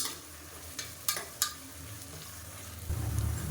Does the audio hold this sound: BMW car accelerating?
no